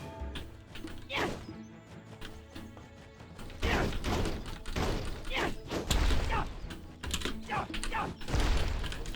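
In the video game Lost Castle 2, bomb explosions land as repeated loud crashes and thuds. Keyboard clatter comes through over several seconds, and game sounds fill the gaps between the blasts.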